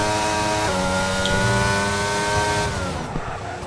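Simulated Formula 1 car in an online racing league at Bahrain, its engine droning loud and steady with harmonic pitch lines sliding as it spins behind the safety car, then the tone drops and thins near the end.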